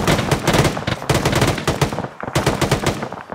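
Rapid automatic gunfire with tracer rounds in a milsim shooter game, sounding as three loud, dense bursts of chattering shots separated by brief pauses, close and sharp.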